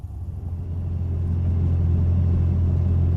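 A vehicle fitted with a cheap eBay turbo kit drives down the road in four-low, giving a steady, loud, low rumble that builds over the first second and then holds evenly with no talk.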